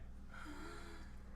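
A woman's sharp gasp sounds in the background, a brief inhaled breath rising over a steady low hum, with no talking.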